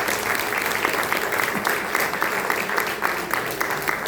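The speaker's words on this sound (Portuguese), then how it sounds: "dá uma linda salva de palmas para o Senhor Jesus" A church congregation at a family worship service claps together in praise, dense sustained applause with sharp individual claps throughout, fairly close and loud.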